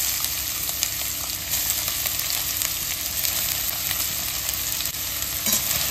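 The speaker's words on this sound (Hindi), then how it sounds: "तो अच्छे से मिक्स करके भून लूंगी पहले।" Finely chopped onions with garlic, ginger and green chilies frying in oil in a pan, a constant close sizzle with scraping and clinking of a spoon stirring throughout, and no voices.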